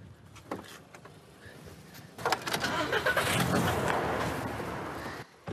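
A car engine on a budget used minivan turns over and settles into a steady idle with a faint light ticking, close and moderately loud, no voices over it.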